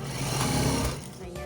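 A sewing machine running steadily as it stitches a T-shirt seam, a close, continuous mechanical whir with a rapid needle rhythm, heard under someone talking.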